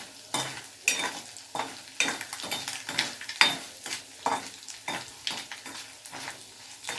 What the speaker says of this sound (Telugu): ఇంగువ నూనెలో బాగా వేగాలి అప్పుడే మంచి వాసన వస్తుంది